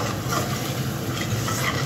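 Curd is stirred into a vegetable curry in a pan, giving a steady, close wet churning and soft sizzle that carries on without a break.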